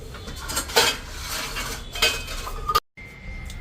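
Knives and a peeler being set into a dishwasher rack, producing close metallic clinks and rattles in a few separate bursts, then a sudden cut to quieter room tone with a faint steady hum.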